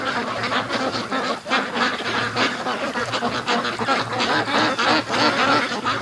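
Ducks quack loudly and steadily from a free-range flock in a yard, many overlapping calls with a constant outdoor hum beneath.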